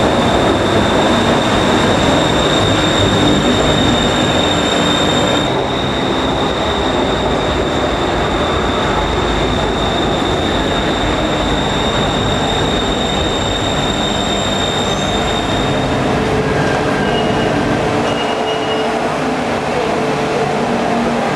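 Metro train pulling into a station in Thailand, a loud sustained rumble of wheels and rails with high squealing tones throughout, the noise easing slightly toward the end as it arrives.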